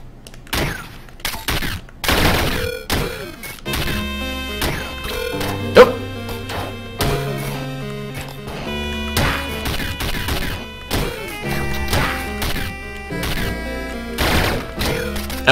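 Rapid gunfire bursts and crunching impacts from the video game Downwell ring out over looping chiptune-style music, dense and loud throughout, with no speech.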